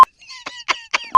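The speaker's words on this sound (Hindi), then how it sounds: "गलत बात बोल के फोन काट दिया।" A phone call cut off, marked by a sharp electronic beep at the start and again at the end, with brief chirpy tones in between.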